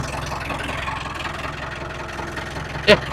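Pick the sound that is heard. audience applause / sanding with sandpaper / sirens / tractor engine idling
tractor engine idling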